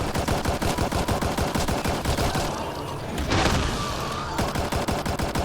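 Gunfire in the Mass Effect Andromeda video game, rapid automatic bursts of rhythmic shots, loud and close, briefly pausing midway before the rapid fire resumes.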